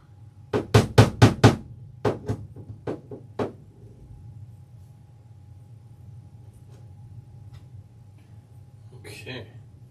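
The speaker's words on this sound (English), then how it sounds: "Where's my little hammer?" A small hammer taps nails while model railroad track for a paper mill layout is tacked down: a quick burst of about five sharp, close taps, then several more spaced taps, fading into quiet room tone with brief talk near the end.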